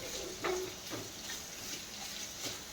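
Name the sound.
onions sautéing in a pan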